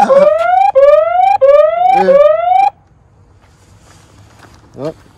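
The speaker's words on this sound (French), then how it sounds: "elle se met en alarme et tout." A Tromox 50cc electric motorbike's anti-theft alarm sounds at close range, four loud rising electronic whoops in quick succession, then cuts off, leaving quiet with a faint chirp at the end.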